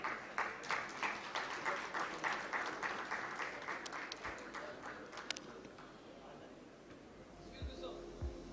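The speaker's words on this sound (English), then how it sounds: "please give a big round of applause to our panel here" Sustained applause from an audience, steady and full at first, then fading away toward the end.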